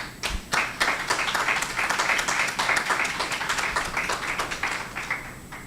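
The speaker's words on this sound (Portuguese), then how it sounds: "Vamos receber o nosso palestrante com uma salva de palmas." An audience at a forum gives a warm round of applause to welcome a guest speaker, dense clapping that holds steady for several seconds and slowly tapers toward the end.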